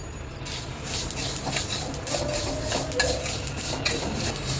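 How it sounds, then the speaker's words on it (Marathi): Sesame seeds roasting over a low flame in a kadai, stirred with a utensil: a steady soft rustle and scrape with occasional light metallic clinks of spoon against the pan, fairly close and continuous. "त्याच्यामध्ये आपण आता हे तीळ घालूया आणि बारीक गॅसवर चांगले खमंग भाजून घेऊया हे तीळ"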